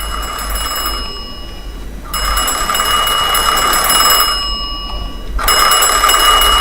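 An old telephone bell rings in two long bursts in the video game Mafia 2, bright and loud, with a short pause between the rings and a steady room hum underneath.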